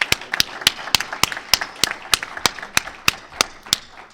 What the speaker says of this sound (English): So if I could have a round of applause for the SBM staff that made this all possible.